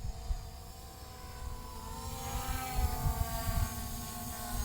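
An MJX Bugs 20 EIS drone flies outdoors, giving a steady buzzing whine with a low rumble underneath; its pitch gradually climbs and wavers as it moves at moderate distance, with no talking.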